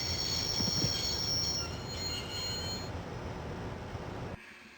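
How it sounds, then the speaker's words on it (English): A train in the Broken Sword video game grinds to a halt, squealing brakes and rumbling wheels loud at first, then fading before cutting off abruptly, with no voices. "I'd always wanted to stop the train, and now was my chance."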